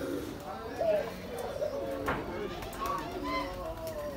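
Pigeons cooing on a mixed farm in Bangladesh, several soft, repeated throaty coos close by, with people talking underneath.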